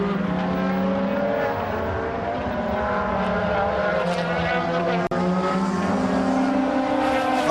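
DTM touring race cars, Audis among them, race at Valencia, their engines howling loudly with rising and falling pitch as several cars pass in close succession, while a commentator talks over the continuous roar.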